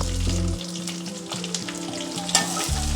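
Finely chopped shallots sizzling in hot oil in a pan for goat head curry, a close steady frying hiss with low music playing underneath.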